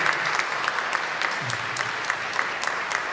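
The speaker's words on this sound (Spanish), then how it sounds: "Y damos un fuerte aplauso" A church congregation applauds during a Sunday Mass, a steady, full burst of clapping that fills the room and carries on evenly for the whole stretch.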